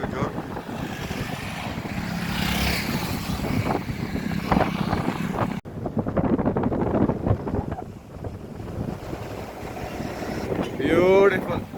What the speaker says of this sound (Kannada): ನೋಡಿ ಕಾವೇರಿ ಎಷ್ಟು ಜೋರಾಗಿ ಹರಿತಾ ಇದ್ದಾಳೆ